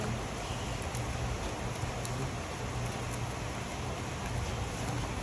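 Steady, dense rain hisses continuously without pause, moderately loud, with no voices over it.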